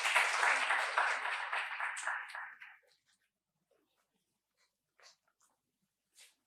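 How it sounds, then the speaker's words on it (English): An audience at a Nobel laureates lecture event claps as a speaker is called on stage, a burst that fades out after about three seconds into near silence with a few faint stray sounds. "Please give a big round of applause."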